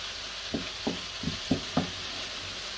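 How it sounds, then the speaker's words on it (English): Onions frying in a pan give a continuous loud sizzle, with five evenly spaced soft scrapes of a spoon stirring through them, no voices. "Just give these onions a quick stir."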